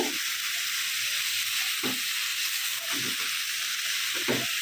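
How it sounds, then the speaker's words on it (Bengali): Vegetable stems (data) sizzle steadily as they are sautéed in a pan for a potato and prawn vegetable dish, with a few soft stirring scrapes against a constant hiss. "এখন ডাটা আমি মানে দুই তিন মিনিট কষিয়ে নেব"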